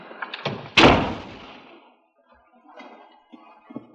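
A door slams shut once with a sharp, loud bang and a short ringing decay, followed by faint shuffling and small knocks, in an old mystery film.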